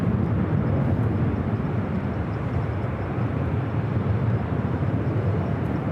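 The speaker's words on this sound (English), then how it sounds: "runway 24 right for the land. Have a Breeze Airbus A220-300." A Breeze Airbus A220-300 landing on runway 24 right at LAX, a steady close broadband jet roar with strong low rumble, loud and unbroken throughout.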